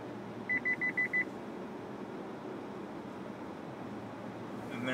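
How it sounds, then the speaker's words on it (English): Mazda Lane Keep Assist warning chimes sound as a quick run of five short, evenly spaced beeps early on, heard over the steady hum of the cabin and the road while the car is driving. "Lane Keep Assist beeps at us, gives us that warning, and we stay in our lane."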